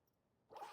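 Unzipping a zipper on an Elecfresh protective weather cover for a Tesla Cybertruck at the tailgate, a single close, crisp zip that starts abruptly after a quiet pause.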